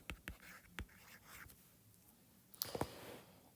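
A pen writes on paper in a quiet room, a few faint scratchy strokes and taps spread across a short stretch, close and soft with no talking.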